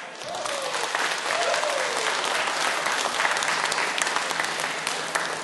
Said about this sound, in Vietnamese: chúng tôi xin mời tất cả quý đồng hương hãy vỗ tay thật lớn, thật lâu, thật dài